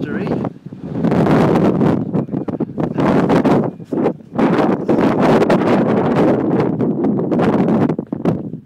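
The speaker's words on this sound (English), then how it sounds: "Blustery." Blustery wind at Harlech Castle buffets the microphone in loud, rumbling gusts that drop out briefly a couple of times before surging back.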